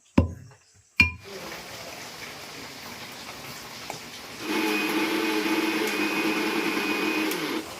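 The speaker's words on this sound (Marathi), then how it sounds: "खोबरं आणि साखर साखर मिक्सरला लावून घेते मी" A kitchen mixer grinder grinds coconut and sugar. A couple of sharp knocks and a quieter stretch come first, then the motor starts partway through and whirs loudly and steadily to the end.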